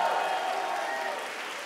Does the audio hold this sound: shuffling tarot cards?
no